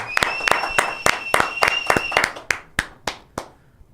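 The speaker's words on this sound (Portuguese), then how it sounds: "Palmas pra Henrique e Juliano, galera" A small audience claps in distinct, sharp strikes, about a dozen evenly spaced claps that slow and thin out toward the end, with a faint steady tone ringing underneath.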